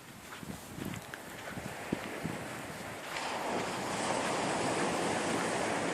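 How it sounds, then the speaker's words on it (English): Waves break along a shoreline beneath cliffs, a steady close wash of surf that swells louder midway and stays as a broad continuous roar mixed with wind buffeting the microphone. "I love the sound of the waves crashing along the shoreline."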